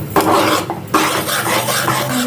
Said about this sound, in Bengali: ভালো করে এটাকে নাড়াতে হবে।